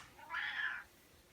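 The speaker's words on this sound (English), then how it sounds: "that's Mac the cat, who's decided she wants out again" A cat meows once, a single drawn-out plaintive call asking to be let out, heard clearly in a quiet indoor room with no talking.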